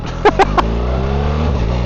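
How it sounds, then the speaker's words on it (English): A BMW R1300 GS Adventure boxer engine idles steadily, then takes three quick blips of the throttle that rev up and fall back, close and loud, with the idle rumble carrying on afterward. "So just like the older Boxer engines, every time you rev it, it leans to one side."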